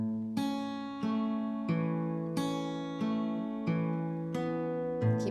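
Fingerpicked acoustic guitar plays the intro of a song, with a series of plucked notes and ringing chords in a steady pattern, close and clear with no talking.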